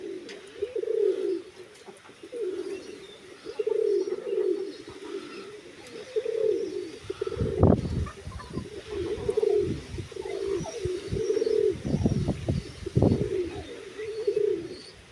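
Pigeons young and old cooing in a repeated, rolling series throughout, with bursts of closer scuffling and wing movement in the middle and near the end.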